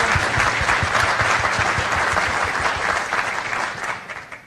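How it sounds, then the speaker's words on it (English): An audience applauds steadily at a ribbon cutting ceremony for the Chemours STEM Hub at Eastside Charter, a dense, even wash of clapping that holds strong and then begins to taper off near the end. "So can we just get a little round of applause?"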